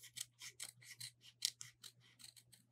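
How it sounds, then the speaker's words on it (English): Scissors cut paper along a line in a quick series of about a dozen crisp snips, evenly paced and close, with no talk and a low steady hum beneath. "So take the scissors, cut on the line."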